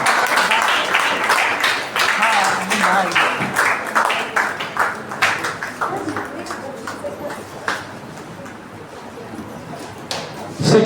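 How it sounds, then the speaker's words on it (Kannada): Loud applause from an audience at a state-level short-poetry gathering in Karnataka, dense clapping that thins and fades toward the end, with a fresh burst near the close. "ಎಲ್ಲರೂ ಮಾದರಿರ್ತಕ್ಕಂಥ ಜೋರ ಚಪ್ಪಾಳೆ ಮುಖಾಂತರ ಅವರನ್ನ ಸ್ವಾಗತಿಸಿಕೊಂಡು ಕೇಳ್ಕೊಳ್ತಾ ಇದ್ದಾರೆ"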